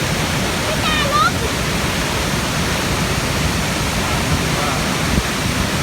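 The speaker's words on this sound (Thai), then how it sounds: "แล้วนี่ก็เป็นน้ำตกเงี้ยวสวัสดครับ" A steady, loud rush of falling water from Huai Suwat Waterfall fills the scene, broad and unbroken, with a faint chirp briefly audible above it.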